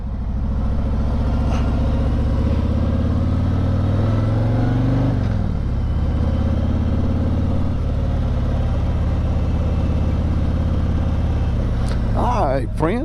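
A car on a morning drive to a Rural King store in Martinsville, Virginia, its engine droning steadily with road rumble, pitch dipping briefly as it shifts, while someone talks over it.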